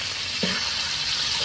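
Garlic frying in margarine in a pan for tuna sisig, a steady soft sizzle that runs without a break, close and fairly quiet, with no voices over it.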